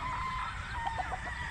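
A rooster crows among banded stag chickens, a rising call over steady farmyard background noise, with other fowl faintly audible nearby.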